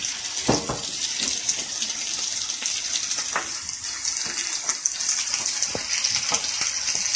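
Onions and garlic fry in a hot pan with a loud, continuous close-up sizzle, with occasional soft knocks and crackles throughout.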